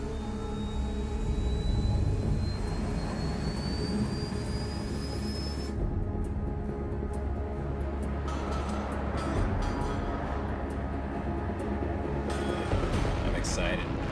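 Jet plane in the video game Ace Combat 7 taking off and accelerating, a loud, broad roaring engine with a rising whine, continuous throughout and heard under someone talking.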